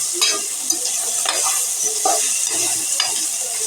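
Gobi manchurian frying in a pan with ginger garlic paste, a steady broad sizzle of hot oil running throughout, broken by repeated stirring scrapes and clinks at a regular pace, fairly close and with no talk.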